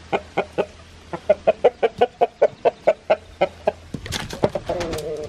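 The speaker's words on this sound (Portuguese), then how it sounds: "Agora, esse galo índio aqui, ó." An Indian game rooster clucks in a steady run of short, evenly spaced calls close by, followed by a burst of busier clucking and chatter.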